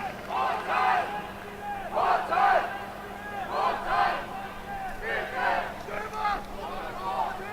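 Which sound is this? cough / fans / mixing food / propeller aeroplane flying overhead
fans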